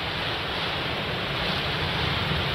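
A river in Jalna district swollen by flooding after heavy rain rushes with a steady, broadband roar of churning water. It is continuous and moderately loud with no voices, and some wind is mixed in.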